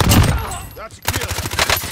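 Gunfire in the video game Warzone, a dense burst of rapid automatic shots at the start, a brief lull, then a renewed run of quick rhythmic shots, loud and close, with some speech mixed in.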